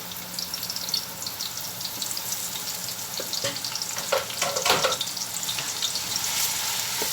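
Onion sautéing in a pan for a rice dish, a continuous bright sizzle with stirring scrapes swelling midway, heard alone without speech.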